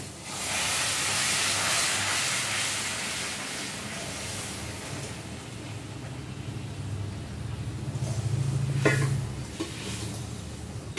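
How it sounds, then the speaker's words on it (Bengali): Pre-heated water hits frying masala for an egg kofta curry, setting off a loud, close burst of hissing steam and sizzle that slowly settles into a gentler bubbling fizz with a few stirring sounds. "এবার আমি এর মধ্যে দিয়ে দেব আগে থেকে গরম করে রাখা জল।"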